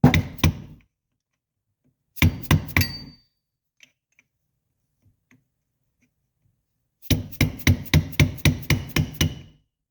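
A hammer strikes a chisel to seat a part against a nut on a 1986-1989 Honda TRX250R ATV engine, with quick bursts of sharp metallic taps, a short pause and then a longer run of about ten blows.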